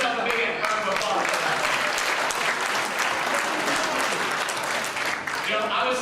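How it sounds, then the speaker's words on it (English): A large convention audience breaks into loud, sustained applause, a dense, steady roar of many hands clapping together for the full stretch, close and full, with crowd noise mixed in. "Give yourself a big round of applause."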